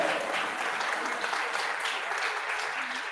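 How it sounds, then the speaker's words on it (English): Audience at a community projects event in Plaistow clapping to welcome a young speaker, a sustained burst of close, dense applause that tapers slightly at the end. "let's give Darcy a round of applause"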